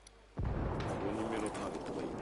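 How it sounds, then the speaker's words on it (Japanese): A sudden explosion in Ghost Recon Wildlands hits after a quiet moment and leaves a loud, sustained rumbling roar that holds to the end. "なんか爆発音が聞こえたんだけど。"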